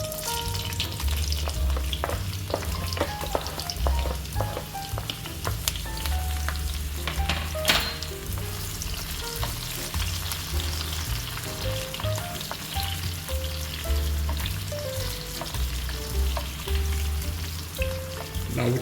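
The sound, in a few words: seasonings frying in hot oil in a skillet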